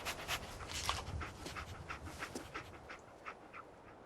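Dogmeat, the dog companion in Fallout 4, pants steadily and fairly close while tracking a scent, a rhythmic breathy panting with no talk over it.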